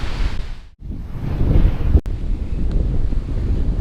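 Ocean surf rolls onto a narrow beach at a Punta Cana resort, a steady broad wash of breaking waves mixed with gusty wind buffeting the microphone, continuous and fairly loud with no voices.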